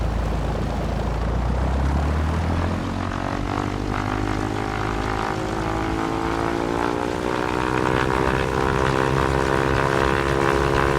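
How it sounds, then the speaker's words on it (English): A propeller aircraft engine in a flight simulator game drones steadily and loudly, its pitch gradually rising as thrust increases, layered with a rushing wind effect throughout, with no voices. "in addition to the prop sounds, we also have an increased wind sound effect"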